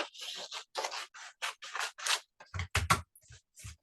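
Scissors snip through a paper strip in quick, close, crisp cuts, a rapid run of short bites followed by a few heavier closing snips, with no talk.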